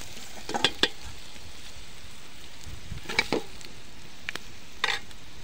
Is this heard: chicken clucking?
no